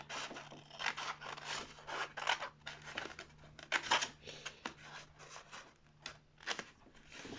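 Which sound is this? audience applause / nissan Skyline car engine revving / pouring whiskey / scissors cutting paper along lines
scissors cutting paper along lines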